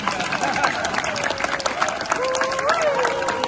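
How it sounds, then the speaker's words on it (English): Wedding guests clap and cheer right after the couple is pronounced husband and wife, a lively burst of applause from a small crowd with whoops and a whistle-like tone rising over it. "You guys may clap now."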